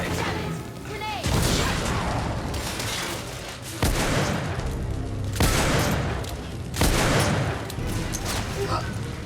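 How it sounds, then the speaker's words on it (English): Grenade explosions and gunfire in the video game The Order 1886: several loud booming blasts at intervals, each followed by crackling debris and rattling shots, with battlefield shouting mixed in. "Bloody grenade! Grenade!"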